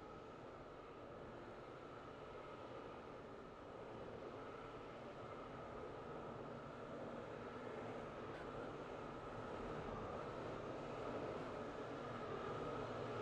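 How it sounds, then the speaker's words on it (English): A train pulling into a platform in the Roblox game Stepford County Railway: a steady, fairly loud rolling rumble and hum that holds throughout with no talk over it. "The train now approaching platform 9 terminates here."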